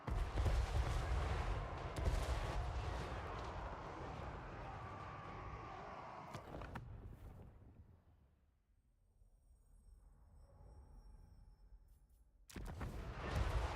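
Heavy cannon fire from a Warhammer strategy video game, a dense roaring barrage of booming shots that fades into a quieter lull before another loud burst erupts near the end.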